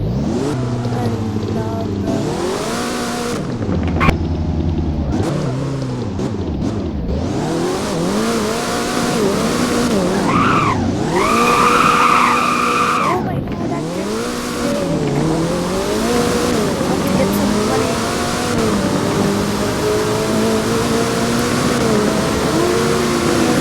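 A car in the Roblox video game Driving Empire roars loudly and continuously, engine revving up and down through gear changes with tire squeals and skidding mixed in, no talking over it.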